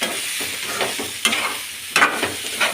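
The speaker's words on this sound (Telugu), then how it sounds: "బాగా వేగాలండి" Bitter gourd (kakarakaya) pieces fry with a little turmeric in a pan, a steady close sizzle broken by periodic scraping stirs with a spatula, with no voices.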